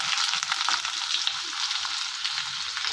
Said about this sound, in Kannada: ಎಸ್ಸಿಗೆ ಫ್ರೈ ಆಗಲಿ.